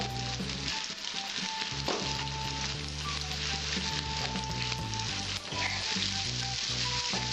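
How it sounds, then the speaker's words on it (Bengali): Potatoes seasoned with salt and turmeric fry in a pan for a Bengali bitter gourd and potato dish, crackling in a loud, continuous close-up sizzle broken by occasional spatula scrapes. "এবার নাড়াচাড়া দিয়ে আমি আলুটা একটু ভেজে নেব।"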